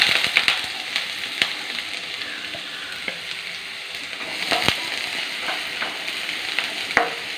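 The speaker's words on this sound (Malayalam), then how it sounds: "കടുക് ഒന്ന് പൊട്ടട്ടെ ഈ സവോള ഇടാം" Onion sizzling in hot oil just after mustard seeds have popped, a loud continuous frying hiss close by, broken by sharp scattered pops and crackles, no talking.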